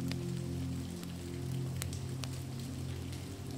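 Rain falls steadily on a stormy night around a cottage, a soft continuous patter with occasional sharper drops, layered over a low droning hum.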